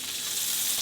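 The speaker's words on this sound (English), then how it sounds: "We're going to baste it with a little bit of butter," Butter sizzles steadily in a hot pan as it's spooned over cooking food, a continuous bright crackling hiss at close range with no voices.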